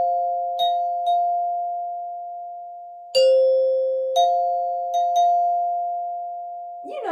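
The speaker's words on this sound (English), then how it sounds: "So that's what a fourth sounds like" Clean, bell-like tones pick out the familiar wedding march melody on an interval of a fourth, C up to F, a handful of struck notes each decaying slowly, soft and alone.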